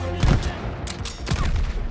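Bursts of gunfire ring out in a desert battle in the video game Call of Duty: Vanguard, several loud, rapid shots with booming echoes over a continuous rumble of game noise.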